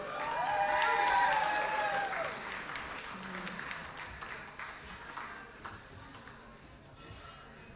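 An audience at a live music show, an album release party, applauds with soft, fairly distant clapping. The clapping swells early, then thins out gradually.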